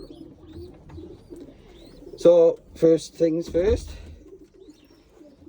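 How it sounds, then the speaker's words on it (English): Stock pigeons in a stock shed give a run of four or five deep, throaty coos in close succession, loud and near, with someone speaking briefly just before them. "As you can see, our stock birds."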